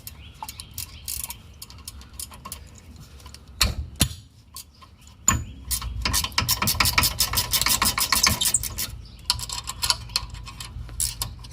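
A ratcheting wrench clicks rapidly while loosening brake caliper pins on a 2002 Honda Accord coupe, close metallic ticking in bursts with rubbing and handling noise between, busiest in the middle stretch.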